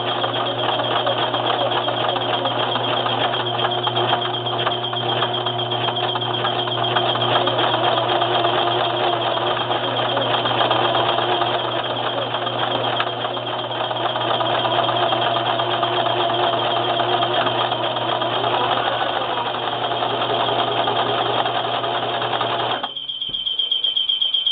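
A Brother LX3014 sewing machine stitches steadily through two layers of muslin, a continuous close whirring hum with a rapid mechanical rhythm that runs nearly twenty-three seconds before stopping abruptly.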